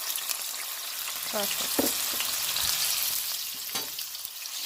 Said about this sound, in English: Then we're gonna start frying. So let's do our onion first.